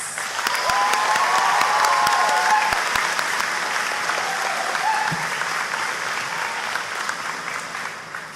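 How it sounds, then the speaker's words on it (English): A crowd at a high school commencement ceremony applauds the concert band after Pomp and Circumstance, a dense sustained round of clapping that gradually fades over several seconds, with faint whistles and cheers mixed in. "Please give them a round of applause."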